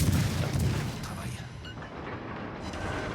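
Naval video game gunfire from the destroyer Mahan, deep booming salvos heavy at the start and fading into a rumbling background of battle noise.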